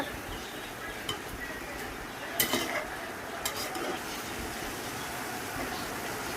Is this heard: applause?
no